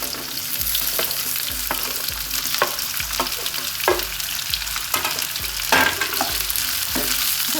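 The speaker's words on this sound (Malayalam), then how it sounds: "ഇത് നല്ലതുപോലെ ഒന്ന് വഴറ്റിയെടുക്കാം." Chopped ivy gourd and green chillies sauté in a hot pan, with a steady sizzle broken by regular spatula scrapes roughly every half second, close and fairly loud with no talking.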